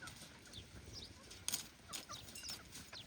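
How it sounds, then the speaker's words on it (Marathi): Chickens gather at a house doorway, with faint rustling bursts of flapping wings and soft scattered clucks over quiet background noise. "आली कोंबडी दारात."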